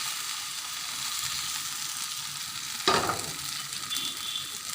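Egg and flour batter frying in a pan for a breakfast snack, a steady close hiss with one brief sharp scrape or splash partway through, then the sizzle continuing evenly, with no talk.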